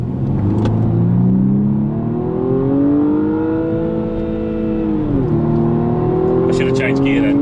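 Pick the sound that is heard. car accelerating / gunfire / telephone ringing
car accelerating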